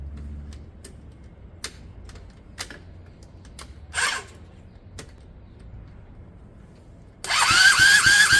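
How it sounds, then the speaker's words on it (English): A Honda CB200 starter motor powered directly stays quiet apart from scattered light clicks and taps, then bursts into a loud, close, whirring spin with a rising whine for the final second. "I wonder if we can actually power the starter motor directly."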